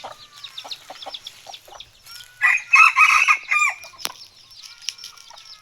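Roosters, including gamecocks kept penned for two months, clucking in quick repeated bursts before one lets out a loud, close crow, followed by further scattered clucks and calls in an outdoor farmyard.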